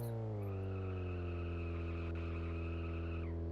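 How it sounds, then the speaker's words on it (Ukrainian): A car drifting in the video game Car Service Simulator: a sustained tire squeal rides over a steady, droning engine for a few seconds, tapering off near the end. "Машина дріфтить так нормально."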